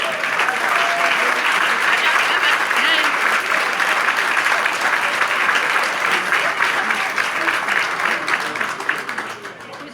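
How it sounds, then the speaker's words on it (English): Sustained audience applause for elected officials at a community gathering, a loud, dense wash of clapping that holds steady before tapering near the end, with faint voices underneath. "stand up and let's give them some applause"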